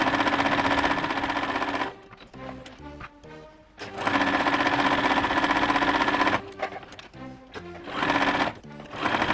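A sewing machine stitching the sides of a quilt block, loud steady rapid needle chatter in long runs, broken by pauses filled with softer clicks and handling before the stitching starts again.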